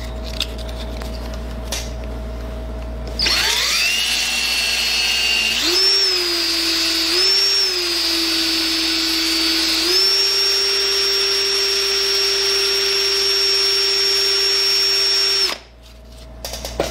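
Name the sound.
power drill spinning wooden ring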